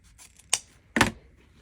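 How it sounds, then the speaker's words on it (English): Scissors cut 4-inch ribbon into a dovetail with two crisp, close snips, a lighter one followed half a second later by a louder, fuller cut, in an otherwise quiet room. "I'm going to snip that"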